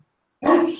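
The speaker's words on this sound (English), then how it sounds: "I'm sorry about the dog." A single short dog bark sounds abruptly after a moment of silence, close and fairly loud.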